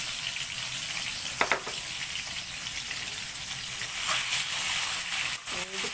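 An egg seasoned with turmeric fries in a pan, giving a steady close sizzle and crackle throughout, with a few sharper pops and stirring clinks, while a person talks faintly in the background.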